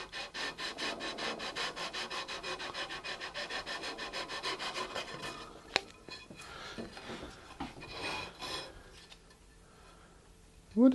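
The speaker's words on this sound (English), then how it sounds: "I've already prepared my leveling beams with some fresh sandpaper." Sandpaper on a leveling beam rubs back and forth across guitar frets during a refret, a fast rhythmic rasping close by that slows and thins out toward the end.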